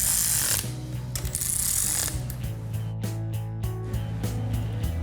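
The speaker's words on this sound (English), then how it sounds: "We'll just run these down a little bit with the wrench." Wrench ratcheting as cylinder head bolts are run down, repeated mechanical clicks and rattles of the ratchet pawl close by with no talk.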